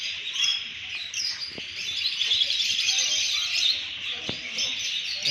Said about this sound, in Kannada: ಎಲ್ಲ ಗಿಣಿ ಅವ